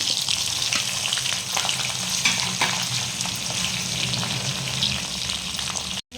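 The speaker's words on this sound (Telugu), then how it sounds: "ఇప్పుడు మనం ఈ వంకాయలన్నీ కూడా పెట్టేసుకోవాలి మసాలా వంకాయలన్నీ" Stuffed brinjals fry in a pan of hot oil with chilli and curry leaves, giving a steady loud sizzle throughout before it cuts off abruptly at the end.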